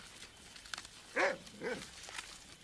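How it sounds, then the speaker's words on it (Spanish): A detection dog searching for kiwi, finding a new kiwi burrow, gives two short, strained barks or yelps close by, about half a second apart, over a faint outdoor background. "El perro hace honor a su profesión y encuentra una nueva madriguera de kiwis"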